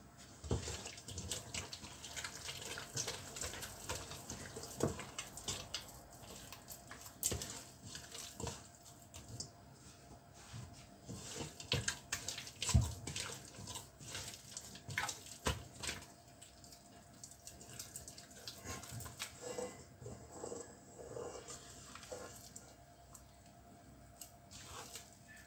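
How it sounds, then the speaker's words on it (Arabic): Water is poured and worked into whole wheat bread dough by hand, giving soft wet squishing and kneading sounds that continue steadily and fairly faintly, with no talking. "غنزيد شويه الماء"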